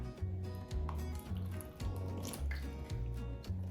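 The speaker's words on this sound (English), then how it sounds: "So we're gonna pour in 50 grams of water." Water poured into a container when feeding a sourdough starter, a short close trickle with drips and splashes, quiet and without talk.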